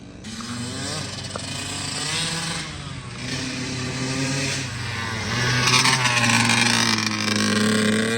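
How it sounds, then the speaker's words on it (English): A rebuilt Kawasaki KX 85 dirt bike engine runs steadily close by, its pitch swelling and easing as the throttle is blipped a few times, with the exhaust still full of old oil. "Just blipping the throttle."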